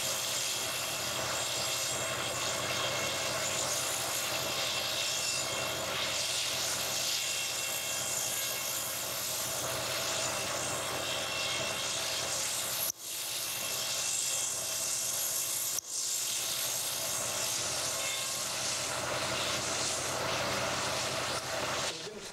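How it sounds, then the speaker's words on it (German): A woodturning machine runs at 3200 rpm, cutting cherry wood with a steady, dense, whirring drone that holds at an even level throughout, broken only by two brief dips. "Die Maschine läuft mit 3200 Umdrehungen pro Minute."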